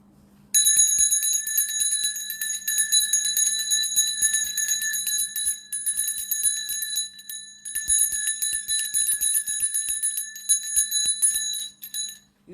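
Bells ring for a sound bath, a bright, sustained high metallic ringing that continues almost unbroken for several seconds with a few brief gaps, close and clear with no talking.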